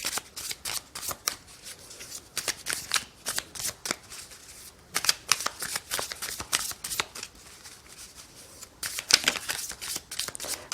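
Tarot cards being shuffled close up, a steady run of crisp riffling bursts and soft slaps with short pauses between, moderately loud and alone.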